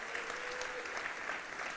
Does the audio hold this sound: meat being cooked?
no